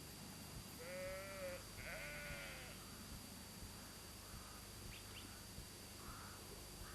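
Farm sheep on a working holding in Peasmarsh in November give a few wavering bleats, one after another, faint and somewhat distant, with a crow cawing softly and low background hum in between.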